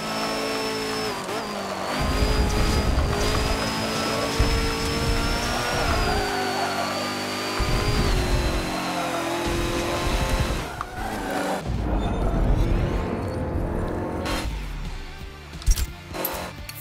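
Polaris RZR Spec buggy engine in the Forza Motorsport 7 racing game, loud sustained revving that rises and drops through gear shifts, with tire squeals and skidding mixed in and a few sharp knocks near the end.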